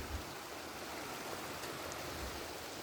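River water streaming steadily along a small rural river in Subang, a continuous broad rushing wash with no talk over it.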